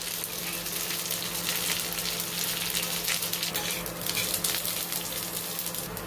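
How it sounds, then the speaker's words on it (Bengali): Carrots and curry leaves sizzle steadily in a hot pan while being stirred, with a continuous close crackle and hiss and no speech. "একটু নেড়ে নিচ্ছি কারি পাতাটা। এর সঙ্গে গাজরগুলো দিয়ে দিলাম।"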